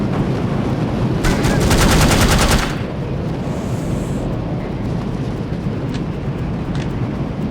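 Rapid automatic gunfire from the video game No One Lives Forever, a loud dense burst of about a second and a half, followed by steady background game ambience with faint distant noises.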